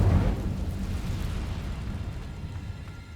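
Hogwarts Legacy video game fire spell Incendio bursts out with a heavy, loud whoosh and boom at the start, then settles into a fading, crackling rumble.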